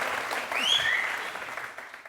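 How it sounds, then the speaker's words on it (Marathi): A studio audience on the Marathi edition of Aap Ki Adalat applauds briefly. The clapping is moderately soft, swells slightly, then fades over about two seconds. "या लोकांच्या टाळ्या ऐकून"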